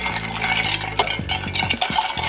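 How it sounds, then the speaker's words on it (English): A spoon gives a quick stir through a sparkling wine cocktail in a glass, a short run of light clinks and swirls against fizzing, close and fairly loud, no talking. "Give it a quick stir."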